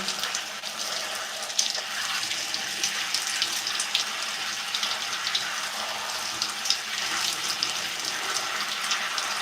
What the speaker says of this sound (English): So I'm rinsing this with like lukewarm water.